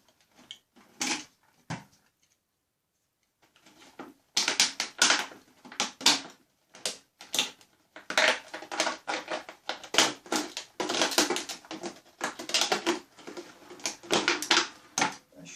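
Bursts of cutting and rasping repeat irregularly, close by, as an exit hole is cut for the exhaust fan of a homemade natural air cooler, with a brief quiet pause early on.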